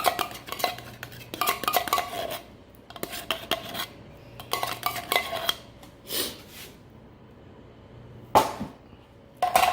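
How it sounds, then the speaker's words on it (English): Broccoli cheese casserole ingredients get mixed in a dish, with bursts of spoon scraping and clinking against the bowl, separated by short pauses and a few louder knocks. "you just gonna mix all of this up together"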